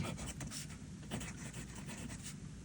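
An Esterbrook Estie fountain pen with a very firm nib writing on paper: a steady, close scratchy rasp of continuous strokes with brief pauses between letters, alone and fairly quiet.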